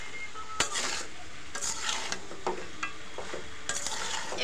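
Chicken and jackfruit curry being stirred and fried in a pan, with repeated scraping and clattering of a utensil against the pot over a soft background sizzle.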